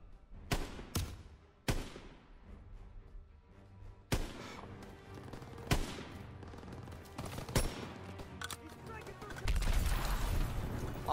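Call of Duty WWII combat in the Death Factory mission: sharp gunshots crack out near and loud in an irregular series over a dense, rumbling battlefield din, with a heavy low roar building at the end.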